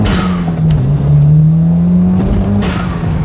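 A 1991 Toyota MR2 with a new aftermarket exhaust accelerates hard close by, the engine note climbing steadily in pitch before a brief shift and a renewed rise, loud and without talk.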